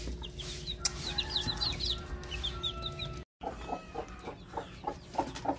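Brazilian Rapido hen clucking softly beside her newly hatched chicks, their high peeps scattered over the low, steady clucks, close and fairly quiet, broken by a brief gap.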